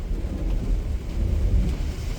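Heavy rain and thunder make a steady, dense roar with a low rumble underneath, loud and continuous throughout with no voices.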